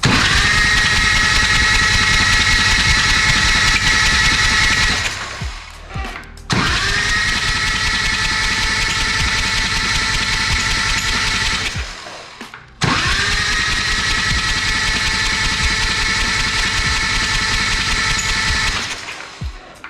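A loud, whirring chopper motorcycle engine cranks steadily, cuts out briefly, then cranks again twice more, each long run ending abruptly.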